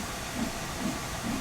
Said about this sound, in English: See all the steam escaping at the front.